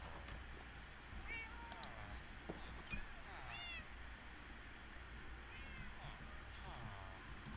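A kitten meows several times in short, rising calls over steady background hum and game music, set during a relaxed Minecraft play session at home.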